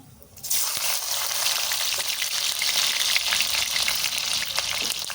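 Garlic hits hot oil seasoned with cinnamon and cloves and breaks into a loud, steady sizzle that holds evenly throughout, close up with no voices.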